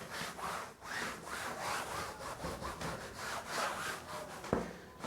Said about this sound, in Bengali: আর একবার একটু ঘষে নিচ্ছি সব ছবি সব ক্যানভাসের উপরে আঁকা তো ওই জন্য ব্রাশ দিয়ে ঘষতে হয়